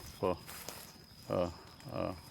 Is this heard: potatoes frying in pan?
no